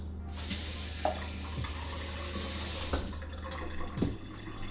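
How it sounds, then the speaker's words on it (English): Water runs from a kitchen tap while dal tadka is being made, flowing in two brief hissing bursts with soft clinks and knocks of cookware between them, quiet and close by. "We're gonna add some water,"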